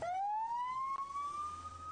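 An ambulance siren wails a rising, steady tone from a moderate distance, carrying the injured from rubber bullets and tear gas near the village of Beita, with faint traffic beneath and no talking.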